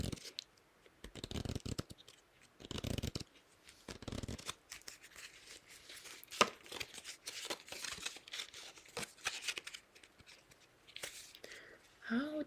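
Old bent playing cards shuffled by hand up close, a series of quick riffling and flicking bursts separated by short pauses, soft and crisp, with faint rustling in between.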